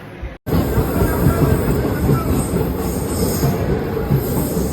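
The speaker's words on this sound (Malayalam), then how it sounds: "എറണാകുളത്തേക്ക് പോകേണ്ട ട്രെയിൻ വന്നു" A train bound for Ernakulam rumbles into a station close by, a loud sustained roar of rolling wheels with a high metallic squeal and hiss above it.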